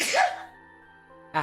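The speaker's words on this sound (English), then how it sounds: "I'm sneezing so much recently." A single sharp human sneeze bursts out at the start, with a quieter gasp of breath just before it ends.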